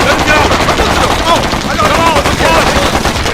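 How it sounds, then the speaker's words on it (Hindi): Rapid bursts of gunfire crackle loudly and almost without pause, with a dense battle-like din behind them. "बिना रोके गोली चलाते रहो।"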